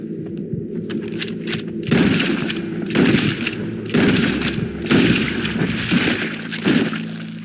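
Several bursts of rapid gunfire in a video game, aimed at an escaped wild animal, arriving in clustered volleys about every second over a steady low game backdrop, loud and close.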